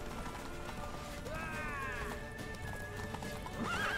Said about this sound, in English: Oh, why am I so bad at riding horses?